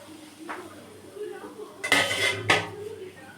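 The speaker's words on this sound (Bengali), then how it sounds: "এবার নাড়াতে থাকবো।" Mango pickle being stirred in a metal pot, with a soft scrape early on and two louder clattering stirs of utensil against the pan later, close by and with no talk.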